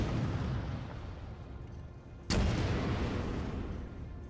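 A sudden loud boom of an explosion in a Halo 4 mod game cuts through a dense rumbling battle backdrop, followed by a sustained roaring tail with no speech.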